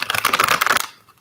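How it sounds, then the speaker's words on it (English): A deck of tarot cards is shuffled in one quick, crisp riffle of rapid flicking clicks that lasts under a second and then stops abruptly, heard close up. "try to hit a couple more shuffles."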